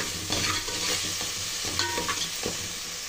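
Salted chicken dum biryani masala frying in a pan, a continuous soft sizzle broken by repeated scraping stirs of a spoon at an unhurried rhythm, close and moderately quiet.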